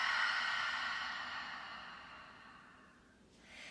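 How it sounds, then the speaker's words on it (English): A long, deep exhale during a yoga session, a soft breathy rush of air that slowly fades over a few seconds, heard close and alone with no talking. "Exhale, let it go."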